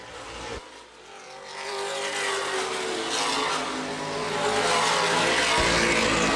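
NAPA late model race cars roar around Baer Field Speedway oval, a loud, sustained engine drone that swells and builds as the pack sweeps closer, with no talk.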